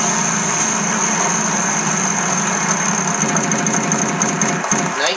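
A spinning wheel in the Wheel of Fortune game on Nintendo Wii gives a rapid, steady run of clicks over a continuous hum, loud and unbroken for about five seconds.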